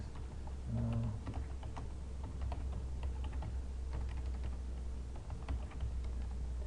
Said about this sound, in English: I can type things